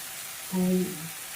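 Chopped tomato hits hot oil in a pan with a short, loud sizzle that swells for a moment and then fades back into a faint steady background hiss.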